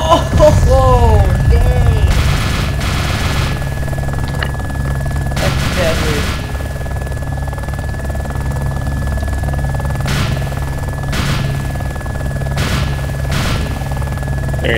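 Vehicle-mounted guns in Arma 2 let off a few short, sharp bursts over a constant low engine drone, with a voice briefly heard near the start.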